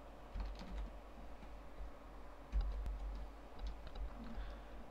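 Keys pressed on a computer keyboard for a copy shortcut, a few quiet clicks and taps spread over the clip against a low background hum, close and faint, with no talking.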